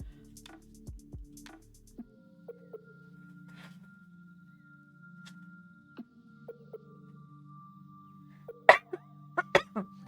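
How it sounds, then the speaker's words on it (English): A few sharp coughs up close, one burst early and a quick cluster near the end, separated by a low steady hum and small clicks. "I cannot have a coughing attack during this."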